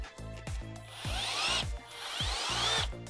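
A power drill tightens hardware on custom high heel roller skates, running in short whirring bursts with rising pitch, separated by brief clicks and pauses.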